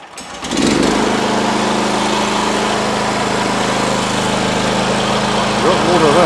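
Towable pressure washer powered by a Loncin petrol engine starts up and runs at a steady, loud, close-up drone, with a constant hum that barely changes over the seconds that follow.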